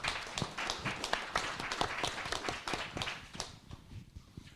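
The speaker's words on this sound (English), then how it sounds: "please round of applause for our audience" A small audience at a tech summit panel claps, distinct individual claps close by, loud at first and thinning out toward the end, with no voices.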